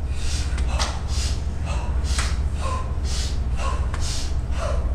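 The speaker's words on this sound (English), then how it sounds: "inhale through your nose, exhale through your mouth" Slow abdominal breathing during a Thai yoga and chi gung flow, air drawn in through the nose and pushed out through the mouth, repeating in soft rhythmic whooshes, close and steady with no talking.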